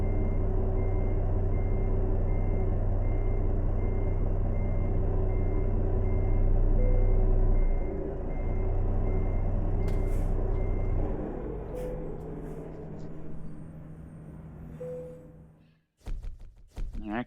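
Reversing beeps from a truck backing straight up in American Truck Simulator, with an International 9800 cabover, a steady repeating beep over a loud engine drone, with brief knocks and a pause near the end.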